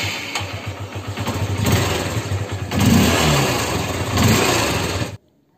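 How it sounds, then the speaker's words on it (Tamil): Bajaj Pulsar 150 or Honda Unicorn 150 motorcycle idles and revs, a steady mid-pitched single-cylinder exhaust burble that swells with throttle blips before cutting off abruptly, close and loud with no talk. "தென் இந்த பைக்கோட எக்ஸாஸ்ட் நோட் வந்து நம்ம இப்போ கேட்கலாம்."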